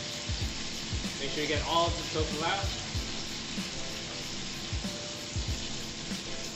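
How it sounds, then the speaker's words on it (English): Tofu sizzles faintly in hot oil in a pan, a soft steady crackle broken by small clinks and taps, while a voice speaks over it. "You want that sizzle."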